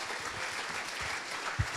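Audience applause closing out a startup pitch at a French pitch-night event, a steady even patter of clapping from a crowd heard throughout, with a few louder claps near the end.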